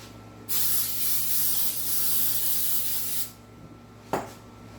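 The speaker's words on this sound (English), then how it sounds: "And we're going to spray our pan." A nearby can of Pam Perfect Release nonstick cooking spray, shaken first, hisses onto a pan in one steady spray burst of about three seconds, followed shortly by a brief clack.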